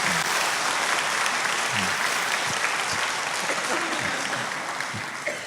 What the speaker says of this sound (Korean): 우리 청년부에서 다시 한번 뜨겁게 박수하도록 하겠습니다